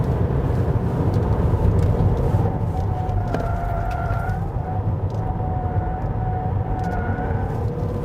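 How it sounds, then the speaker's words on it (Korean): Wind noise from the side mirror of a 2020 Hyundai Grandeur 3.3 GDi Calligraphy gasoline sedan at speed, a steady loud rush heard inside the cabin with faint whistling tones rising and falling over the road rumble. "전면에서 부딪히는 바람 소리는 고르게 잘 나는 편인데 이 차 같은 경우에는 그 요쪽 사이드 미러 쪽에서 좀"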